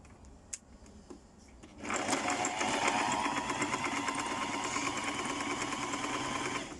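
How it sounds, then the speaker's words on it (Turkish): After a couple of faint clicks, a sewing machine starts up and runs steadily, sewing a stretch stitch with a close, fast, even whirring chatter that lasts to the end. "Esnek dikişimize başlıyoruz."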